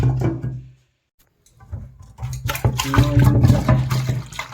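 Running tap water pours loudly and close as food is rinsed for a Punjabi-style Maggi, with a short silent break before the flow resumes with sloshing and splashing.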